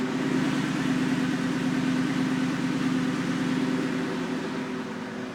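A van engine idles steadily at about 1000 to 1100 RPM, a smooth low rumble with a constant hum that never changes pace, close by.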